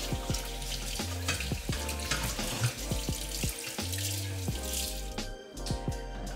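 Cold tap water runs steadily into a sink while strained milk curds are rinsed to wash out vinegar for homemade rasmalai, with soft splashing and a few clinks, fairly quiet and without talk.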